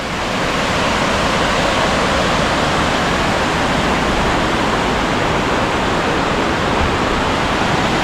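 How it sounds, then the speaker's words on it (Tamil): Charpa waterfall near Athirappally pouring heavily, a loud, constant broadband roar of rushing water with no breaks or voices. "டார்பா வாட்டர் ஃபால்ஸ் எப்படி கொட்டுது பாருங்கள் தண்ணி செம்மையாக"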